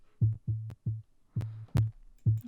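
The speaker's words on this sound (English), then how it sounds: "it's literally just a sine wave," A pitched-down sine wave bass made in Ableton Live, with light envelope modulation, plays six short, deep, rounded notes in a steady rhythm, each starting with a clicky attack, alone and fairly loud.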